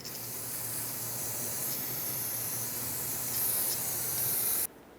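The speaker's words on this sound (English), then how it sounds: "Clean everything off with brake parts cleaner." Brake parts cleaner sprayed during a rear brake hose replacement on a Ford E-350, a continuous close aerosol hiss for several seconds that rises slightly before cutting off sharply.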